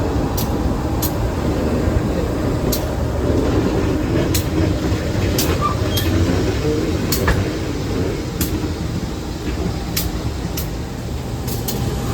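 Close, loud rumble from a train rolling into a freight station on the Motis line toward Cilegon, with steady wheel noise and regular sharp rail clicks at even intervals.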